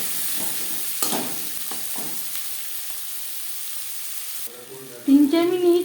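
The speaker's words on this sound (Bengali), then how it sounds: "মাছ ভেজে নেওয়া কড়াইতে আবারও তেল দিয়েছি। দিয়ে দেব পেঁয়াজ কুচি ও টমেটো।" Chopped onion and tomato hit hot oil in a wok that had just fried fish, giving a close crackling sizzle with a few clatters of the spoon early on, then a brief voice near the end.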